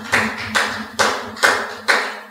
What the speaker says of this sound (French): applaudissez pour le roi des rois.